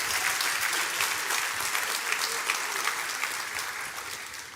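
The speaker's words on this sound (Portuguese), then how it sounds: "Vamos dar uma salva de palmas aí" Congregation clapping in a church service, a dense, steady wall of applause from many hands, loud and close throughout, fading slightly at the end.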